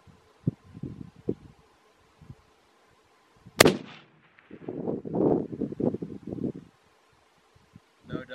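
A Savage 110 High Country rifle in .300 Win Mag fires one sharp, loud shot outdoors at long range, followed by a rolling echo and rumble, with faint rustling and handling noise around it.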